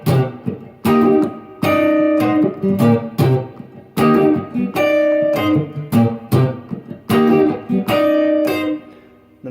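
Guitar comping in Dorian with angular, string-skipping dyad shapes: short, punchy chord stabs in a syncopated rhythm with brief rests between them, played up close and loud, with no voices.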